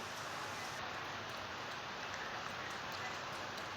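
Steady rain falling outside on a rainy day, a dense even hiss heard faintly and continuously throughout.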